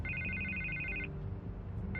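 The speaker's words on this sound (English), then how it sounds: "I can't get the phone to stop ringing." A telephone rings in a scene from the Batman Telltale Series video game, Episode 3, with a repeating electronic ring that sounds steadily for about a second and then starts again at the end, over a low room hum.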